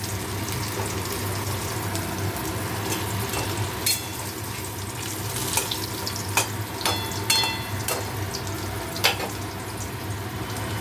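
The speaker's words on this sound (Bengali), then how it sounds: "এবারে পনির ফ্রাইটা বসিয়ে দিয়েছি" Paneer fry in a home-kitchen pan hisses and sizzles steadily up close, punctuated by several sharp spatters and clicks of the spatula in the pan, with no talking.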